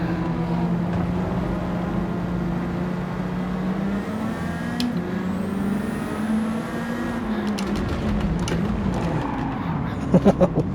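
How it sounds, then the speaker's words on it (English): A Mercedes car engine in Gran Turismo 7 drones and revs steadily, pitch rising and falling as it accelerates and shifts, with faint tire and mechanical noises. "This Mercedes sounds good."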